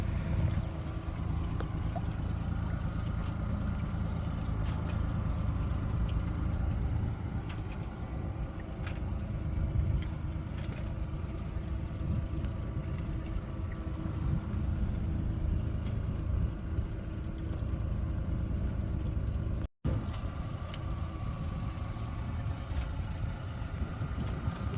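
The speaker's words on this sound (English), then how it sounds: "We have the engine in idle" A MacGregor 26M sailboat's engine idles steadily through the whole stretch while the boat sails, a continuous low rumble with water and wind noise, interrupted by one sharp dropout near the end.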